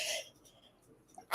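One short sneeze bursts out at the very start, blamed on pollen, followed by quiet breathing and a faint sound right at the end.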